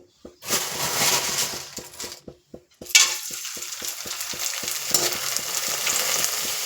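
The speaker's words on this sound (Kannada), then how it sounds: "ಪಲ್ಯದ ಒಗ್ಗರಣೆ ಇದ್ರು ಹಾಕಿಬಿಡ್ತೀನಿ ರೀ" Spices hitting hot oil: a brief sizzle, a pause, then a sudden loud crackling hiss that keeps spitting steadily, with stirring taps underneath.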